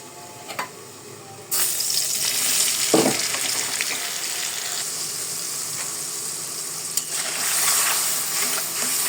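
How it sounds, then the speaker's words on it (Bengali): Vegetable stems cook in a pan with white mustard and a little turmeric for a traditional Bangladeshi chorchori. A steady, fairly close hiss of sizzling begins after a quiet start, with a brief clatter partway through. "সাদা সরিষা দিয়ে রান্না করছি, হালকা হলুদ দিছি যাতে কালারটা সুন্দর আসে"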